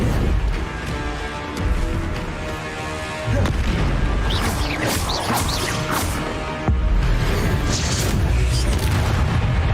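Bombarda spell explosions in the middle of a Hogwarts Legacy duel. Heavy booms and crashing impacts stack over constant loud combat noise, with sharp bursts repeating throughout.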